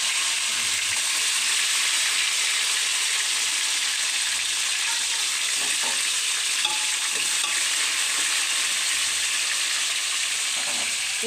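Hyderabadi biryani masala with bay leaf and golden fried onions frying in a pan, giving a steady, close hiss of sizzling oil with soft stirring scrapes throughout.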